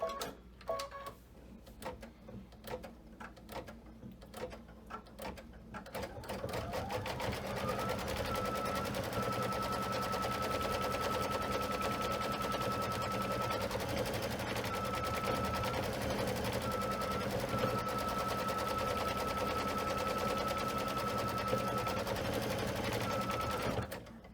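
An embroidery sewing machine stitches fabric stretched in a hoop, starting with a few separate clicks before settling into a loud, continuous rapid needle chatter with a steady whirring hum.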